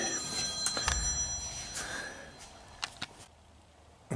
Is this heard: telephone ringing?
yes